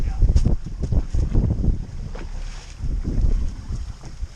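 Gusty wind buffets the microphone outdoors, a loud low rumble that swells and fades in irregular bursts throughout.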